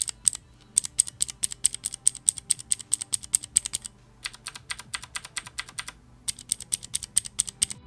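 Typing on a Fnatic Rush G1 keyboard with Cherry MX Blue switches fitted with O-rings gives rapid clicky keystrokes in bursts with short pauses, close and fairly quiet.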